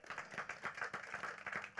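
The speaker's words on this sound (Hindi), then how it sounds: "जोरदार ताली होनी चाहिए" An audience at an FM radio show's success celebration claps to welcome an arriving guest, a quiet, steady patter of hands sounding fairly distant.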